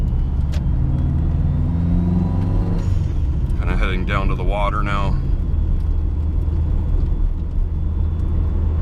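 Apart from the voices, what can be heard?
car driving on road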